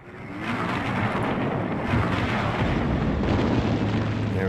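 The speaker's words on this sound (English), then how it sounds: "There's more fucking artillery around here." Artillery explosions in the war strategy game Sudden Strike Gold come through as a dense, continuous low rumble. Heavy booms and crackling blur into one another without a break.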